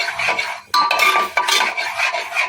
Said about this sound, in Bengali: সেই তেঁতুল ভেজার জলটা এখানে দিয়ে দেবো রান্নার ছাপড়াগুলো কিন্তু দেবো না পুরো ফেলে দেবো ভালো করে এটাকে মিশিয়ে একটুখানি ফুটতে দেবো